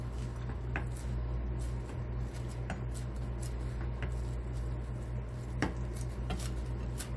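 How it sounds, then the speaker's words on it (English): Knife chopping cilantro on a board, irregular sharp taps scattered through a steady low kitchen hum, close and moderately loud, no speech. "Chop, chop, chop."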